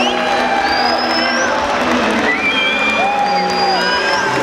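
A large, loud crowd at a UFC open workout for McGregor vs. Alvarez cheers, whoops and shouts continuously, with whistles rising and falling above the steady roar.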